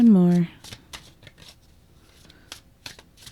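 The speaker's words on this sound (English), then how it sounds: "I'm going to shuffle one more time." A deck of tarot cards is shuffled with quick, crisp riffling flicks and soft slaps close by, after a brief tone at the start.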